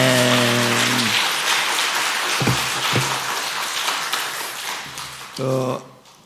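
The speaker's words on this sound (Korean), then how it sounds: "새가족부 또 성기미들 위해서 한 번 더 축하의 박수 해주시기 바랍니다." A church congregation claps after a service, a sustained rustling burst of applause between short stretches of someone speaking at the start and end.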